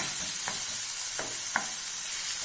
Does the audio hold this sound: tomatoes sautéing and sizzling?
yes